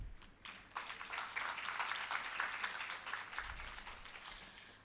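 Audience applause at a FLO Bangalore startup and mentorship event, a dense, steady wash of many hands clapping that fills the room throughout without talk.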